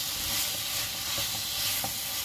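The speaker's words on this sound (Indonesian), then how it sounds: "kita masukkan udang yang kita telah bersihkan" Cleaned, peeled shrimp hit a hot frying pan with bitter gourd sambal, giving a soft, steady sizzle with faint stirring scrapes, close and alone.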